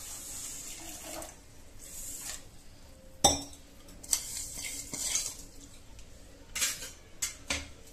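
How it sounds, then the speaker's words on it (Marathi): Water poured into a pan over about three cups of sugar to make syrup, with a soft trickling wash and a few sharp metallic clinks of utensils against the pan, close by. "आणि साखर विजेल इतपत आपण त्याच्यामध्ये पाणी घालून घेऊया."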